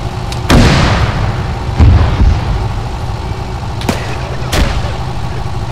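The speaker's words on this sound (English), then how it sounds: "Let's throw some grenades at it." Grenade explosions in the military game Arma 3, several heavy booming blasts at irregular intervals, the first two loud and rumbling, later ones sharper, over a low steady background rumble.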